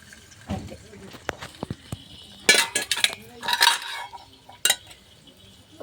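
A spoon clatters and scrapes against a pot while tamarind fish curry with Godavari fish pieces is stirred, giving irregular metallic clinks and bursts of scraping, close by, with someone talking between them.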